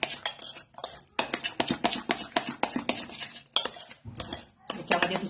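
Dahi vada batter mixed with a little baking soda is stirred briskly in a bowl, a steady run of close scraping and clinking strokes with short pauses between bursts, with no talk over it.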